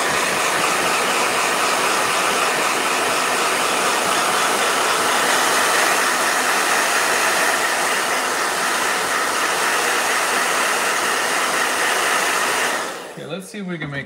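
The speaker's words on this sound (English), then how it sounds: "Blow dryer." A blow dryer drying a painting in a sketchbook, running loud and close as a constant roaring whoosh for most of the stretch before it cuts off near the end.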